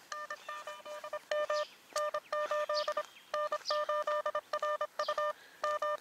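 Rapid Morse code tones at 26 words per minute from a CW practice phone app, crisp beeping bursts in quick groups with short pauses, close and clear with no voice.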